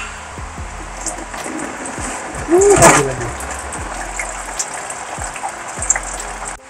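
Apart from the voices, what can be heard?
water draining out of a Suzuki Vitara engine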